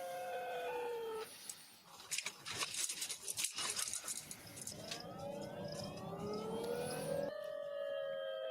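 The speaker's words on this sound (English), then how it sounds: "This is some of the weirdest noises I've heard a police car make." A police car siren sweeps and warbles through odd, shifting wails, mixed with bursts of rushing noise in the middle, fairly close and continuous.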